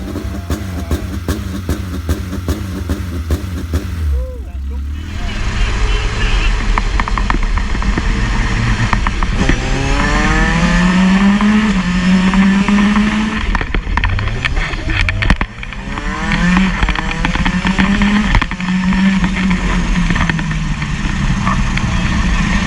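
A Caterham 620R fires up after a few seconds of mechanical noise, then settles into a loud, close idle before rising and falling through repeated throttle revs and acceleration.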